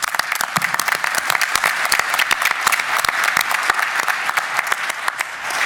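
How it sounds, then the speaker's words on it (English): An audience at an interactive case-based session gives a round of applause, a dense, steady patter of many hands lasting several seconds with no talking over it. "So I'm going to lead a round of applause for Donna"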